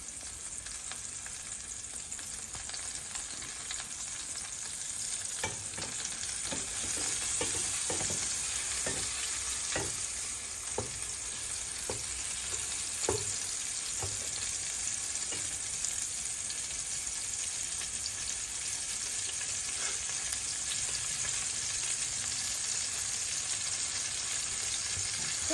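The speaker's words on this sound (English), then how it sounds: "you do want to braise it so we can seal the meat so it doesn't fall apart" Puerto Rican meatloaf sizzles steadily in a hot pan, a continuous hiss broken by a run of sharp utensil clicks and taps near the middle before settling back into an even, moderately loud fry.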